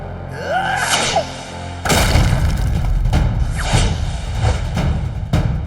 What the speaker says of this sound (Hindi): ये तो बड़ा धमाकेदार योयो है